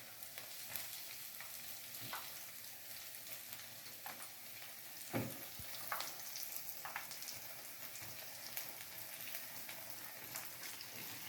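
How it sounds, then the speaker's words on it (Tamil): Vada frying in hot oil, a steady fine crackling sizzle with occasional pops and louder bursts as pieces are flipped, close up and without talk. "இப்போ நாங்கள் இந்த வடையை திருப்புவோம்."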